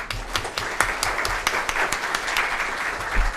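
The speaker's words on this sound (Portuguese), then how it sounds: "Vamos aplaudir, gente?" A crowd applauds at a lecture on Brazil's new Code of Civil Procedure, a dense patter of many hands clapping steadily for a few seconds at moderate distance, with no voices standing out.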